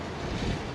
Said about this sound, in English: it's getting windy there now